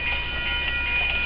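A Wheeling & Lake Erie freight train rolls past with a steady, loud rumble and grinding of railcars, continuous throughout with no talking.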